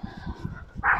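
A dog barks and yips close by in short bursts with whimpering tones, one sharper, higher cry at the end.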